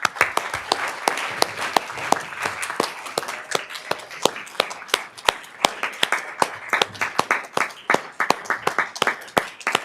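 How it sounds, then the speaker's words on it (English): Audience applause at a Sacramento City Unified School District meeting, a steady burst of many hands clapping with sharp individual claps standing out, lasting the full stretch at moderate loudness with no talk. "And we're going to give you another round of applause as you come up."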